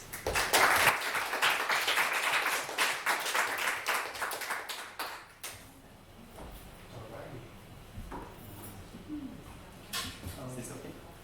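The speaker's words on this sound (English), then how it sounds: "So let's welcome him with a round of applause." Applause from an audience at a JavaScript and IoT tech talk night, a burst of loud clapping for about five seconds that fades into quieter room noise with some movement and soft voices.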